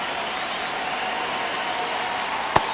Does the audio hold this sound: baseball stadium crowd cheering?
yes